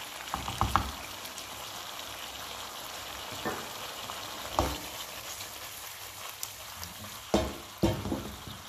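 Peperonata of peppers sizzling steadily in a frying pan, a soft constant crackle broken by occasional louder stirring scrapes and clacks.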